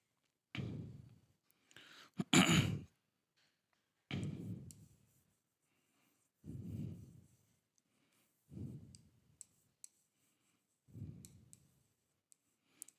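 Marker or chalk strokes on a classroom board during an English lesson come in five separate bursts spaced a couple of seconds apart, close and fairly quiet, with a few sharp clicks between them.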